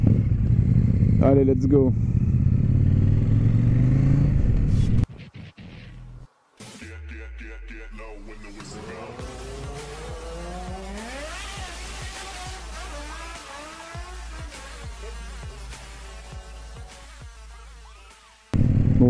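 A KTM Super Duke 1290 fitted with an aftermarket exhaust, ridden on the road, its engine rising and falling through loud revs and gear changes after a short pause, with someone speaking briefly over the engine at the start.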